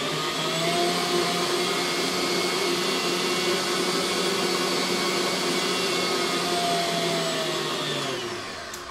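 An electric mixer whirs steadily as it blends a block of cream cheese with sugar in a bowl, a loud, continuous close-up drone that holds even throughout and eases off slightly at the end.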